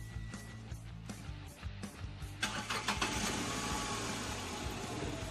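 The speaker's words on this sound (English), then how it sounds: "So let me start the engine and I'll show you how it sounds" A Datsun redi-GO's small petrol engine cranks a few times with the starter whirring, then catches and settles into a loud, steady rattling idle close by.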